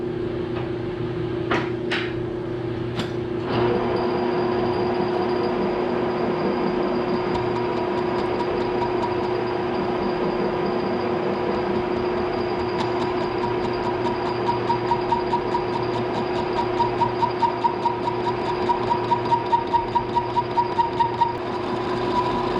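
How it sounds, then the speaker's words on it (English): A metal lathe turning down excess weld on a clutch shaft, a few clunks at the start, then a steady motor hum and whine with a rising rhythmic ticking of the cut toward the end. "I'm going to turn down this weld shoulder, or this excess weld, back to the shoulder"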